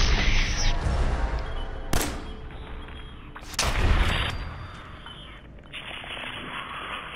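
Two sharp gunshot blasts in the video game Fallout 4, the first near the two-second mark and the second a heavier boom about two seconds later, over a steady game ambience.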